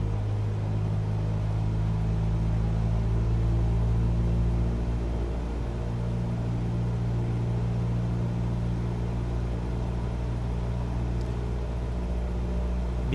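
A single-engine plane's engine throttles up to 1,800 RPM in Microsoft Flight Simulator, giving a steady, loud, droning hum that holds an even tone throughout.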